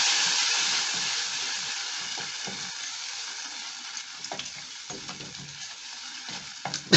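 Tomato paste goes into pilipili peppers frying in a pan, giving a soft continuous sizzle with scattered scraping stir strokes that grow more frequent toward the end, no talking.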